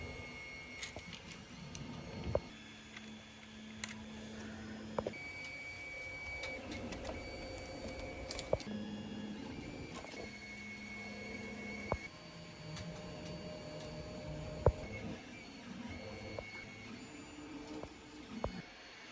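A 3D printer runs steadily while printing a D20 die, with continual stepper-motor whirs, shifting tonal buzzes and small ticks. It sounds close and alone, without any voices.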